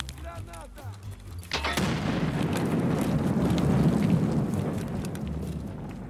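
A grenade goes off in the shooter game Escape from Tarkov, a sudden heavy boom followed by a long rumbling decay. Faint voices and other game noises come before the blast.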